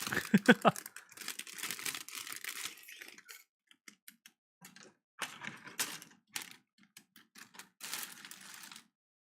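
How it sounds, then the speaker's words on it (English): Crinkly plastic packaging from a Gundam model kit being handled and torn open in close-up bursts, loud at first, then intermittent rustles with short quiet gaps between them. "Just me opening plastic."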